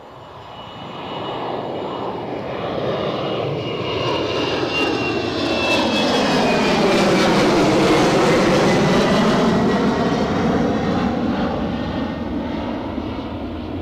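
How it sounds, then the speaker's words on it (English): An Eastern Airways Embraer 190 jet takes off down the runway, its engine roar swelling loud and steady to a peak, then easing slightly as it passes, heard from a distance. "Eastern Airways now galloping down the track with their Embraer 190 long range"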